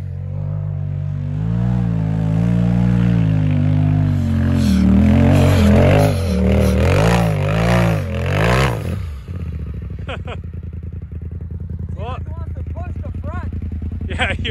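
RZR or X3 side-by-side engine revving in snow, loud rising and wavering revs that drop off sharply to an idle, with people talking over it.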